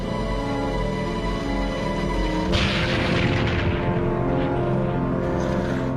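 A World War I torpedo strikes the warship Aboukir in a documentary sound effect: a heavy low rumble gives way to a sudden loud boom and a long, roaring, crackling aftermath.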